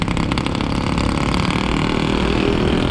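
A motorbike engine running steadily as the rider sets off on a road trip from Bandung toward Ciamis, a loud close continuous drone with a slight rise in revs and no talk.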